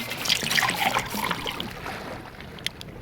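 Water trickles and splashes as it is collected in Wasteland 2, a soft dribbling flow at close range that fades out, ending with a small click.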